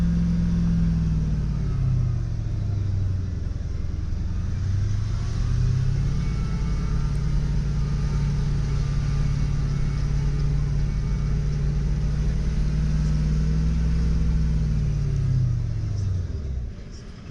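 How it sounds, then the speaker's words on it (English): A four-wheel-drive engine rumbles steadily at low revs, about 1500 to 2000 RPM, engine braking in low range at 5 km/h, its deep drone dipping and rising slightly as the vehicle creeps along slowly. "That's just natural engine braking, 5 k's an hour, sort of 1500 to 2000 RPM"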